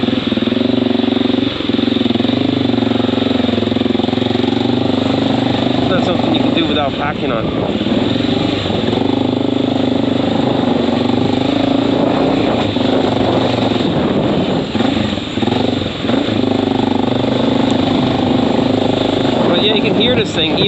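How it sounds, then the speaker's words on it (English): Honda XR650L motorcycle fitted with a loud Lex exhaust idles with a constant deep, rumbling drone close to the listener, while someone talks over it. "the exhaust just started making some wicked noise"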